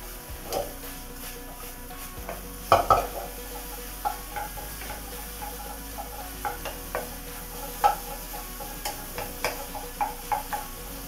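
Egg and cauliflower fried and stirred together in a pan for protein fried rice: a soft, steady sizzle under repeated spatula scrapes and taps, close and moderately quiet, with no talking.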